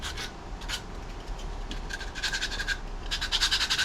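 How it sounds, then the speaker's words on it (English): A small piece of sandpaper rubbed by hand over a 2x4 board, scuffing off chips: repeated short rasping strokes in an uneven back-and-forth rhythm, close and fairly clear, with no talking. "we're going to do a light sand to get rid of all the chips so we don't get any slivers"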